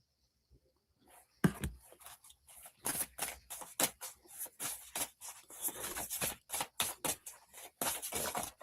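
A deck of oracle cards is shuffled by hand, giving rapid rhythmic riffling and papery slaps in quick bursts, close and fairly loud with no voices.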